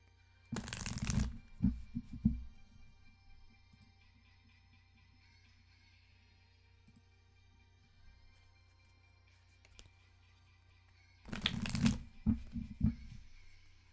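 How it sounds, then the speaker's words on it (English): A deck of tarot cards is riffled in two separate shuffles. Each is a short burst of crisp, fluttering slaps close up, with near silence between them. "that was an awful shuffle."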